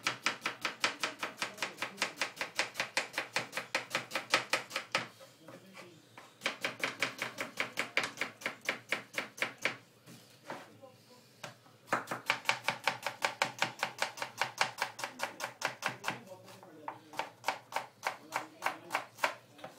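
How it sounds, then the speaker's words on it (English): A knife chops rapidly on a cutting board while finely slicing an onion, producing fast, even bursts of crisp taps in several runs separated by short pauses. "Okay, we slice one onion. The onion has to be finely sliced."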